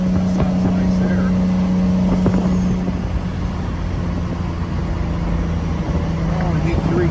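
Turbocharged Acura Legend engine droning steadily at close range under continuous in-car talk, with a sustained low tone that holds through the clip and no clear shift breaks.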